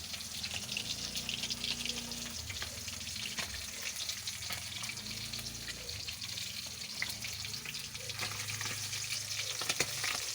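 Galunggong (round scad) frying in hot oil, a steady close sizzle and crackle throughout with occasional stirring scrapes and faint water-like hiss, no talking.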